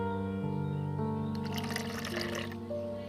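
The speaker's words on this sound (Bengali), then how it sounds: "আর একটু জল দিয়ে দেবো।" Water is poured into a pan of doi potol curry, giving a short splashing gurgle with a few drips over a steady tonal background hum, and no one speaks.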